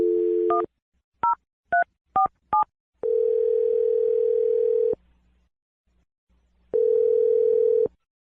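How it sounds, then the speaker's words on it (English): Touch-tone dialing on a landline-style telephone line: a steady dial tone, then five quick separate DTMF beeps, followed by two long ringback tones with a short silent gap between them, all clear and close with no talking. "I'm going to dial Ryder's phone number"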